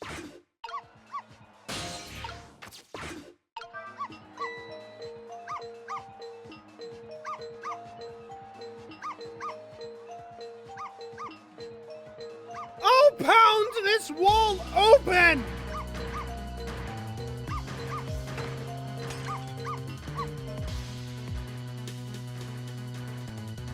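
Cartoonish dog barks and yips from the puzzle video game Ghost Trick, mixed with game music and sound effects while someone speaks over it in an English fandub, with busier noisy hits toward the middle.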